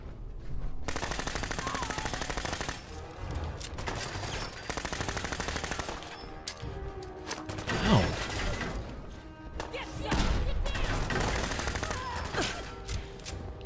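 Loud, sustained automatic gunfire in the video game Fallout 4, long continuous bursts with short gaps and a heavier impact near the middle, with brief talk mixed in.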